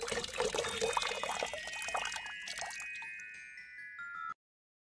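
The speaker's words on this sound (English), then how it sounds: "Please go get those jugs and fill them up with water." Water poured into jugs for a feast, a steady trickling and splashing stream with bright dripping tones that thins out before stopping abruptly near the end.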